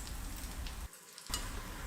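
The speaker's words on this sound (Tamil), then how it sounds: "இந்த வெங்காயம் நல்லா வதங்கணும்" Onions sautéing in a pan for egg curry, a continuous close sizzle with a short dip in the middle before the frying noise returns at full strength.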